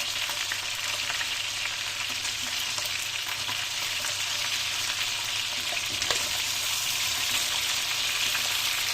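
Chicken chops sizzling and frying in a hot pan, a steady crackling hiss with scattered pops, close and continuous throughout.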